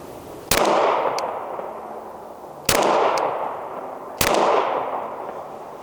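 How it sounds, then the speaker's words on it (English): Three sharp, loud gunshots from handguns fired at a 25-yard target on a range, each cracking out with a short echoing tail and spaced about two seconds apart. "We'll each be shooting 3 shots out of each gun."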